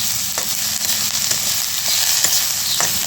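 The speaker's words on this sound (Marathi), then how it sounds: "कांदा घेते मस्त असा भाजून" Onion frying in oil over a wood-fired stove, a steady dense sizzle with soft periodic stirring taps, close and even throughout.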